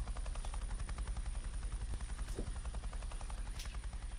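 Helicopter in a virtual-reality flight simulator game, a rapid steady rotor chop pulsing throughout with engine rumble underneath, loud and continuous with no talking.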